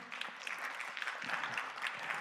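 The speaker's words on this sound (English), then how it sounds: "You guys are gonna get tired of clapping." Steady applause from an audience at a university thesis competition finals, a continuous patter of many hands clapping, moderately loud and fairly even throughout.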